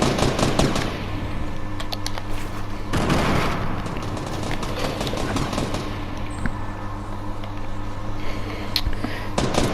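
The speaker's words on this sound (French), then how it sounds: "Kirito qui tire Dono pendant que Dono essaye d'arriver stratégiquement" Rapid gunfire bursts in the video game Fortnite crackle nearly nonstop over a dense game soundscape, with a heavier burst around three seconds.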